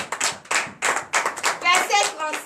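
A congregation at a church service applauds in rhythmic bursts of clapping, with several rounds of hands striking together, fairly close and moderately loud, as voices call out in between.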